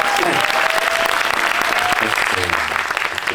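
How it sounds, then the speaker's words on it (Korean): An audience applauds at a Korean movie screening with a guest talk, loud and continuous clapping from a packed theater crowd that fills the whole stretch, with faint voices underneath. "그럼 박수 부탁드릴까요?"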